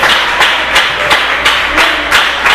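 A church congregation claps in praise of Jesus, a steady rhythmic unison clap repeating about every third of a second over a sustained background wash.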